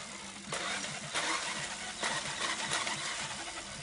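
An electric drill driving a bicycle gives off a harsh, whirring mechanical drone that surges in several bursts, steady and fairly close.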